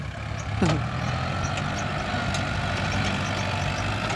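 A farm tractor's engine rumbles steadily at close range in an outdoor field setting, a continuous low drone with one brief rising squeal near the start.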